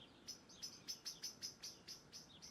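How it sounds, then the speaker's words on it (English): Birds chirp outside on an Auckland evening, a quick series of about ten sharp, high tweets in an uneven rhythm, faint and distant over quiet background. "Birds chirping, sun shining"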